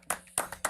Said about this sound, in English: let's just give a round of applause for Riz